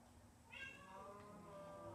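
A cat meows in the video game Minecraft, giving a short rising and falling cry or two at moderate loudness over a quiet game background.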